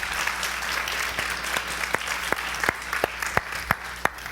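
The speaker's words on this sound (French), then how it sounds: "Les efforts du traducteur méritent un applaudissement." An audience applauds a translator in a hall, the clapping steady and fairly soft with scattered sharper individual claps standing out toward the end.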